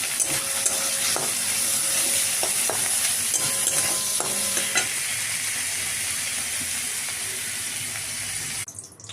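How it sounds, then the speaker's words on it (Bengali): Prawns fry in ghee with a loud, continuous sizzle and crackle up close, a few clinks and stirring sounds, ending abruptly. "চিংড়ি মাছটা ঘিয়ে ভাজবো।"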